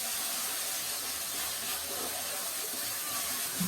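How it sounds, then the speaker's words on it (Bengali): Spice masala with a little water sautés in a pan over medium heat, giving a steady close hiss and sizzle with a few faint pops, unbroken and with no talking. "গ্যাসের আঁচ মিডিয়াম রেখে মশলাটিকে প্রায় 2 মিনিট সময় ধরে কষে নিচ্ছি।"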